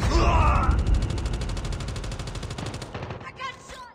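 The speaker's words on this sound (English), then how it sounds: "I got shot!" Rapid automatic gunfire from a Call of Duty match on the Rust map, loud and dense with regular bursts for about three seconds, then trailing off into scattered shots and faint game noise.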